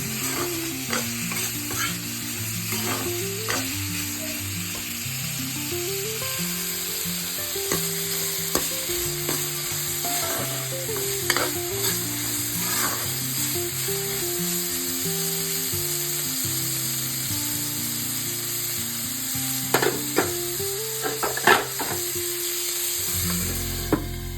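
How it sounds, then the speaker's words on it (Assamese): Food sizzles steadily in a pan over a gas flame, a continuous close frying hiss broken by frequent stirring scrapes and clinks throughout, with no talking. "অলপমান ভাজি লৈছোঁ।"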